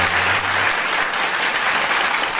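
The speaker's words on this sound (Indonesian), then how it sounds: "Tepuk tangan, tepuk tangan, tepuk tangan, tepuk tangan," Loud, dense applause from an audience at a sintren dangdut stage performance, close and continuous, a steady roar of clapping hands with a brief low hum at the start and no talk over it.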